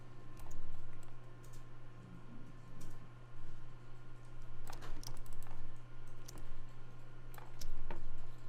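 Computer keyboard keys pressed while working in Photoshop: scattered light clicks and taps, some in quick clusters, over a steady low electrical hum.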